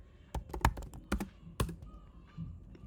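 Keys clack on a computer keyboard as Java code is typed for an if block, in irregular bursts of a few close, crisp strokes with short pauses between them.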